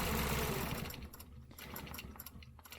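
A sewing machine stitches a stencil line in a loud continuous run that eases into a lighter, rapid stitching rhythm, heard alone without voices.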